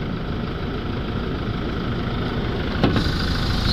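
Steady close idle of a Toyota Hilux 2.5 D4D diesel with a clogged particulate filter, low throbbing rumble throughout and a brief metallic click near the end.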